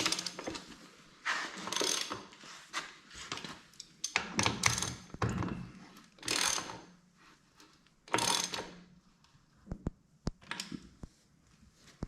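Clamps being tightened on the rear tire rim of an Oliver 66 diesel tractor, irregular bursts of metallic ratcheting and clicking, close up, separated by quiet gaps.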